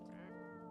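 A cat in a video game gives a single short, soft meow with a clear tonal pitch that holds briefly and fades, heard faintly with nothing else around it.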